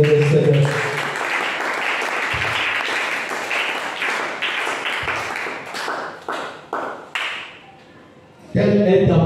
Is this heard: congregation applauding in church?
yes